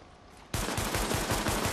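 M9 pistol gunfire in Tom Clancy's The Division, a rapid string of loud, close shots in steady rhythm starting abruptly after a quieter moment, with no talk.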